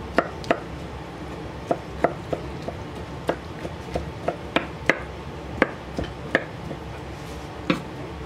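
A knife chops ingredients for macaroni salad on a cutting board in a steady series of crisp, close cuts, loosely rhythmic, roughly two per second with short pauses.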